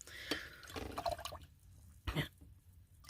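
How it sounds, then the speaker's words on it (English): Water trickles and drips as it is added to paint, with soft splashy bursts near the start and a distinct drip around the middle against a quiet background. "I'm gonna add some water."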